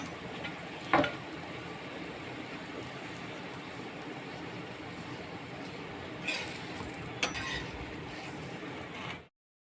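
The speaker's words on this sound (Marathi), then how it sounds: "इथे आता दुसरा आपण मी तव्यावरती घालून घेतलेला आहे।" A sattu paratha cooks on a hot tawa, giving a quiet, steady sizzling hiss with two or three faint clinks and taps of a utensil, and no speech.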